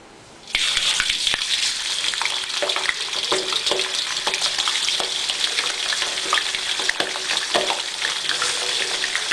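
Chicken pieces dropped into hot cooking oil for browning, starting with a sudden loud sizzle that settles into continuous close frying crackle and spatter, with no voices over it.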